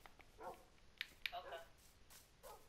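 Faint dog barks and yips from a Minecraft dog, a few short scattered sounds under quiet talk, with a couple of sharp clicks.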